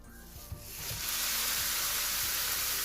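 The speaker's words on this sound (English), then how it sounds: "Once your oil is hot, add in 500 grams of mutton mince" Mutton mince hits hot sunflower oil, a quiet start quickly building into a loud, steady, close sizzle that fills the rest of the moment, with a few faint stirring knocks early on.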